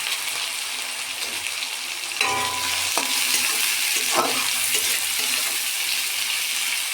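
Onion, garlic and ginger frying in a pan for an egg curry: a steady bright sizzle that swells suddenly partway through, with short stirring scrapes and clinks close by and no talking.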